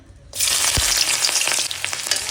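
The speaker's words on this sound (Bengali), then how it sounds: "এখন ভেজে নেব পেঁয়াজ মরিচটা" Onion, chili and chopped garlic hit hot oil in a village kitchen pan, bursting into a loud, steady sizzle that continues without pause, with no voices.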